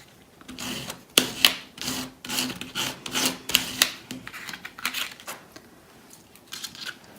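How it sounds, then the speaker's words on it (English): A scraping tool drags across paint on a mixed media artwork, making a series of close, rough rasping strokes in uneven bursts, some sharper and louder than others, with no talking. "so I've just scraped that just to add something of interest at the bottom here"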